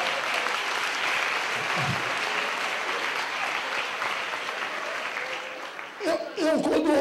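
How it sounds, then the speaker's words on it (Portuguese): Sustained audience applause fills a lecture hall, a dense, steady wash of clapping that runs the whole time, with voices breaking in near the end. "Eu quando ouço as palmas, eu fico bem preocupado"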